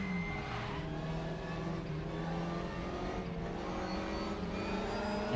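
A Renault Mégane TCR touring race car in the RaceRoom racing game, its engine droning and revving steadily at high load with shifting pitch, loud and continuous with no talk over it.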